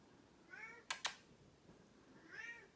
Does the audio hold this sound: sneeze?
no